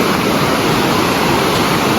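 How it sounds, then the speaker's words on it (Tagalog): Water rushes past steadily near a hydroelectric site in the Philippines, a loud, constant broadband roar with no pauses and no voices over it. "May tubig ditong dumadaan."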